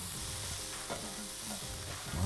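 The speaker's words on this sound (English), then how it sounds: "I'm going to toast them and just pop them in the pan now too." Raw cashew nuts and cumin seeds toast in a pan for a high-protein burger, making a soft, continuous sizzle with light stirring and shuffling, which grows louder at the very end.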